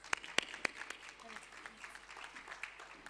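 An audience applauds as a speaker comes on stage at a plenary session, a few sharp claps standing out early before steady, moderate clapping fills the rest.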